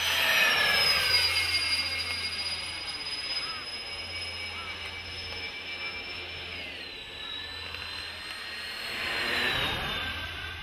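A Freewing 1700mm A-10 Thunderbolt II radio-controlled model jet cruises overhead at half throttle, its electric ducted fans giving a steady airy whine whose pitch slides as it passes and turns, heard from a distance.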